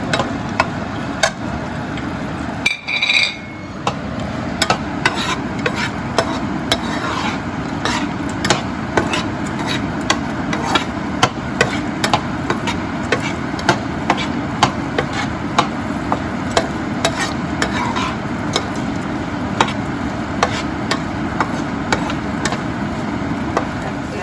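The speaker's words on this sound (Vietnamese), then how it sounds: "Mình xào cho những cái này nó săn rồi, nó chín đều cho nó săn." Carrots and peas are stir-fried with spam and Chinese sausage for green fried rice, giving a steady close sizzle punctuated by regular clicking scrapes of a utensil against the pan.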